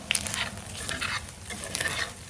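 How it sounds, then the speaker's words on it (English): Mac and cheese sizzles and pops in a cast iron pan fresh from a pizza oven, a steady close frying hiss with stirring scrapes and a few sharp crackles, no voices. "You hear it sizzling."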